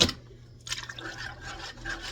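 Milk pours into a crock pot of broccoli cheese soup, a soft liquid splash and trickle that starts after a brief pause and continues steadily close by.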